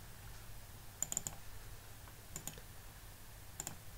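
Soft, faint clicks of computer keyboard typing on a Linux machine, a few short bursts of close keystrokes separated by quiet pauses.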